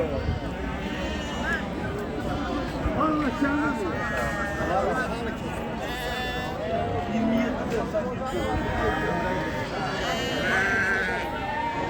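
Sheep and goats, including Arabian goats, bleat repeatedly at a livestock market in Ganja, Azerbaijan, their calls overlapping amid dense crowd chatter and constant background bustle.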